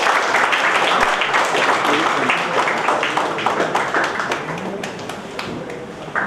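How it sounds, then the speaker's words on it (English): An audience at an engineers' certification ceremony claps, a steady dense patter of hands that gradually fades over several seconds, with some voices mixed in. "Round of applause."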